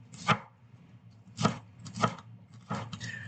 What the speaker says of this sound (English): when I cut these, I don't cut them too thin